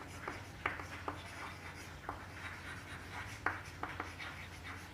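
Chalk or marker strokes on a classroom board during a maths lesson: a series of faint, quick scratchy taps and short rubs, about a dozen irregular strokes over a low background hum.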